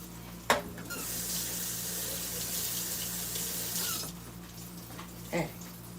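Kitchen tap water runs steadily as a broad hiss for about three seconds, with clicks and small clatters before and after, while eggs and water are mixed for a Greek meatball egg wash.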